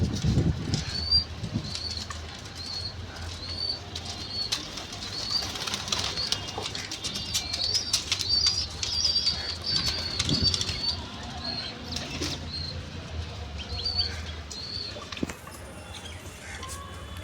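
Pigeons flap their wings in a loft where a breeding pair is nearing egg-laying time, with repeated soft wing beats and rustling over a steady background and faint chirps throughout.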